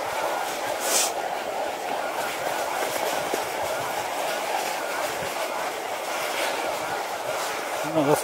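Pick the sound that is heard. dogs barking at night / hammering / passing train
passing train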